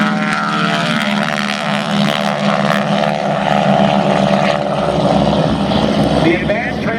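Propeller trainer aircraft with a fixed pitch propeller flying at a Houston air show, a loud steady engine drone close by with a narrator talking over it.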